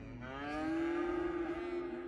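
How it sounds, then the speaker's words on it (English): Cows in the Cities Skylines video game give a long, sustained moo, loud and close, with a steady rising tone lasting the whole moment and no talk over it. "We've got our cows."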